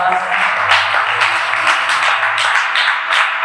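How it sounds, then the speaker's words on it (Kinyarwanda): A church congregation applauding in praise of God, steady dense clapping from many hands sustained for several seconds under a low background hum, no speech on top. "komera Imana amashyi"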